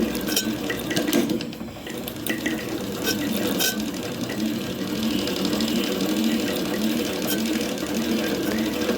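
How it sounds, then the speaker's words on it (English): Sewing machine winding a bobbin as its handle is turned, giving a steady, continuous mechanical whirring hum that runs unbroken throughout at moderate, close volume. "we just rotate the handle, and it'll load itself quite happily, like so. And we'll just do that till the bobbin's full"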